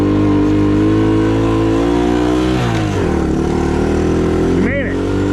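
Engine of a 1970 Honda ATC US90 three-wheeler laboring up a small hill in first low gear, a loud, close, sustained drone that shifts pitch as the load changes.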